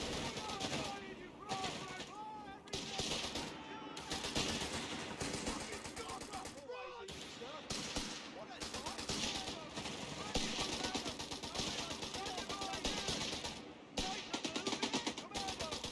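Machine gun fire and other gunfire from the game Company of Heroes 3 rattles in repeated bursts with short gaps, loud and continuous across the scene, mixed with game effects.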